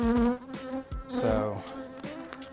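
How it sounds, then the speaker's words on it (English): A honey bee buzzes right against the microphone during a sourwood nectar flow in western North Carolina, loud and close, its drone rising and falling as it moves around. "I've got one bee right here that is absolutely tearing up my microphone."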